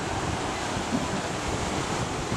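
Southern Ocean surf off Kangaroo Island, a steady broad roar of waves with wind buffeting the microphone, continuous and fairly loud with no voices.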